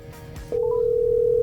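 A telephone call placed to a car tuning and window-tinting shop: after brief handling noise and a short tone, a steady, loud ringback tone sounds continuously, with no one speaking.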